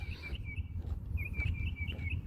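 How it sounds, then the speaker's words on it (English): Birds sing outdoors in a run of repeated high chirps, faint and somewhat distant, over a low rumbling background. "I love the bird sounds. It makes some really funny sounds too."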